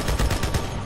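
Halo 2 gunfire rattles out as a rapid, loud, continuous burst of shots. The close, dense firing fills the whole short moment with no pauses.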